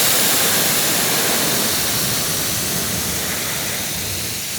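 Water spraying steadily over a car during a rinse after cleaning bugs off, a loud continuous hiss of splashing that stays constant and slowly eases slightly toward the end, no talking.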